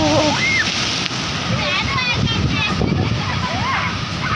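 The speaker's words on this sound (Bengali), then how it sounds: "সবাই যেখানে আছে ওখানে দেখো ঢেউটা, জাস্ট দেখো" Sea waves splash and wash up on the beach at Digha, a loud, continuous churning surge with voices, including children's, calling out over it.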